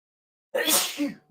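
A single sharp sneeze bursts out after a moment of silence, close and fairly loud, with a brief breathy tail.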